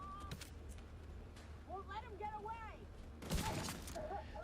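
Gunfire in The Division 2, with a few sharp bursts of shots mixed with game effects, moderately loud, beneath someone talking over the action.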